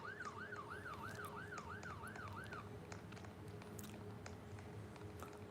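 An ambulance siren in a Roblox game wails in a steady up-and-down cycle for a few seconds, then cuts off, leaving a low constant engine drone with faint clicks underneath.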